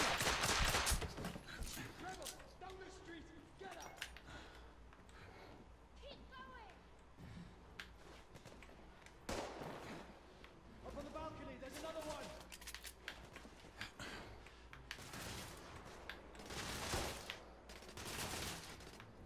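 Gunfire in The Order: 1886, rapid bursts of shots crackling in clusters with a firefight rhythm, fairly faint and intermittent, with voices talking over the shooting.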